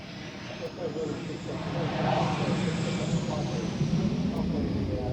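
A Hornet jet lands at the 2001 Waddington airshow: a broad, rumbling jet roar builds gradually and holds at a steady, fairly loud level, heard from a distance.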